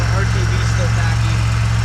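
A supercharged Pontiac Bonneville SSEi idles with a steady low hum and a pulsing throb, close and fairly loud, while a person talks over it.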